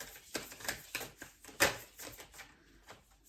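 Tarot cards being shuffled by hand, a loose run of soft irregular taps and riffling clicks, close and fairly quiet with no talk.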